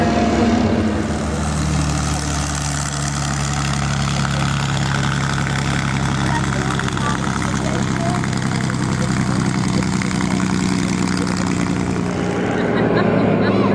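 A propeller warbird built as a replica of the Japanese A6M Zero fighter on a North American Harvard airframe, flying at an air show; a loud steady engine and propeller drone holds throughout, fading slightly at the very end.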